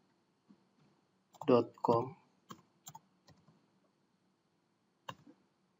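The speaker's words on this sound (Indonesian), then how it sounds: "Kita ketik saja facebook.com." A few sparse clicks of a computer keyboard as a website address is typed into a browser, with a short stretch of nearby speech before the isolated keystrokes.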